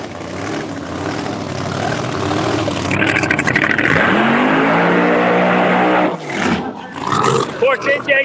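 A Pro Extreme drag racing car roars at full throttle, loud and continuous, with a rising engine pitch before cutting off abruptly, then sputtering pops and revs follow, while a commentator talks over the noise.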